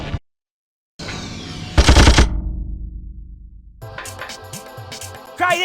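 Video game gunfire in Carrier: a sharp burst of rapid shots, a loud blast with a ringing tail, then further quick clattering shots and a final hit, close and punchy with no voices.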